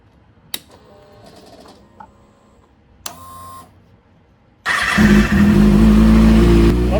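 A Kawasaki ZX6R with an Austin Racing exhaust fitted with a decibel killer fires up, loud engine roar kicking in after a few clicks and clunks, running steady and close.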